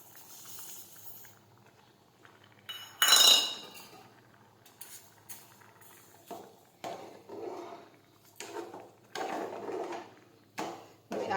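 A spoon scrapes and clinks against a pot while samo rice kheer is stirred, with a soft bubbling hiss between irregular metallic strokes, close and without speech.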